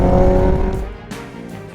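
A Royal Enfield Himalayan 450 or Hero XPulse 210 motorcycle engine roars loudly at first on the Mumbai–Goa ride, then eases off and fades, with brief hissy bursts near the end.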